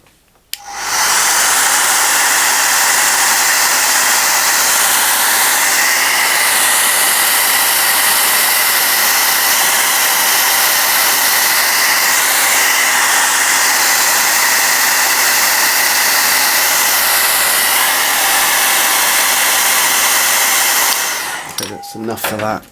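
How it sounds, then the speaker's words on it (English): A hair dryer drying a wash layer of paint on metal, a loud steady whooshing blast switched on and running for about twenty seconds, then cutting off, close and alone. "I'm using the hairdryer to knock this back to dry it really quickly"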